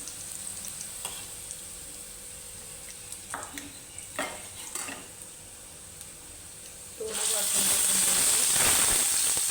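A ground spice paste of coriander and cumin frying in oil for Kolhapuri spinach curry, with quiet scraping stirs, then a loud, steady sizzle that erupts and holds to the end.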